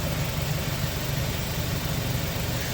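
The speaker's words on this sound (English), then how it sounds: "Listen to your new engine. It sounds so good." A 2005 Nissan Altima engine idling with a steady, even low rumble and broadband hiss, constant in level and heard up close with no voices.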